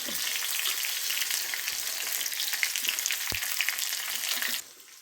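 Mustard seeds, cumin, green chili and curry leaves crackle and sizzle in hot oil, a dense close frying hiss with a single sharp pop, cutting off abruptly near the end.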